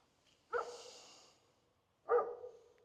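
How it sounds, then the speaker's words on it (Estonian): A dog outdoors at a quiet seating spot in nature barks twice, loud and close, about one and a half seconds apart, with silence around each bark. "kui Coltrane just ei hauguks"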